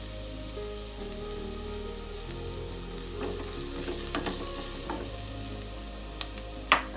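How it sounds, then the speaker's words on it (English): Onion fries with turmeric in a pan for dry peas masala, a steady close sizzle running the whole time with light stirring scrapes and a couple of sharp clinks near the end. "Onion have become transparent now. At this stage I'll add the turmeric."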